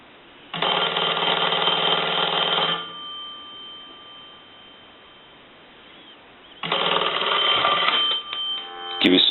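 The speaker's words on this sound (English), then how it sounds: "We'll let the ring go a couple of times." A Western Electric Princess touch-tone desk telephone rings with its bell, two long bursts of about two seconds each separated by a quiet pause, loud and close, with a faint steady tone between rings and a soft handling clunk at the end.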